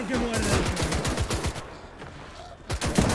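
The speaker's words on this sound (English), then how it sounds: "We got some AA rounds going out." Anti-aircraft fire in Call to Arms: Gates of Hell, a WW2 defence of Leningrad against the Soviets: rapid bursts of loud cannon shots in quick rhythm, fading into a busy battlefield din with further sharp reports near the end.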